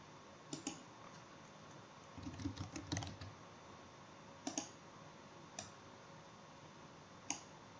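A computer keyboard is typed in a short cluster of quiet clicks, followed by a few isolated clicks spaced out, faint against a quiet room background.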